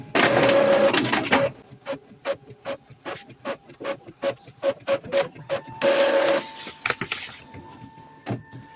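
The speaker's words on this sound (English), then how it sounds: "The power light will start blinking and the printer may make some noise." Epson ET-2400 or L3210 inkjet printer runs a head cleaning cycle: motor whirs at the start and near the end frame a long series of evenly spaced mechanical clicks and ratchets, close and clear with no talk.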